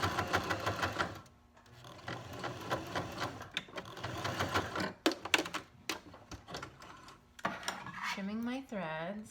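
A sewing machine top stitching sweatpants during a mending job: short bursts of fast mechanical stitching clatter broken by brief pauses, recorded up close and fairly quiet.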